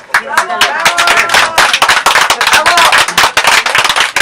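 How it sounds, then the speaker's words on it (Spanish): Audience at a literary talk in a library breaking into loud, close applause, dense irregular hand claps with sharp individual strikes and a few voices mixed in. "un fuerte aplauso para"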